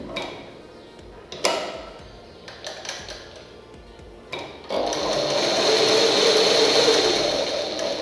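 A sewing machine stitches a fabric patch with colored thread during mending. A few light clicks and handling knocks come first, then the machine runs in a steady, close whir until the end, with no speech.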